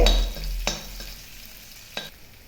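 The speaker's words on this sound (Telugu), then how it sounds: "చూడండి, 1 నిమిషం పాటు కలుపుకోవాలి." Thinly sliced garlic fries in a pan while being stirred. A sizzle fades over a couple of seconds, marked by a few sharp scrapes of the spoon.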